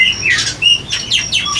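Songbirds at a bird shop kiosk selling prized competition birds, loud harsh squawks and sharp chirps repeating in quick bursts close by, with no voices.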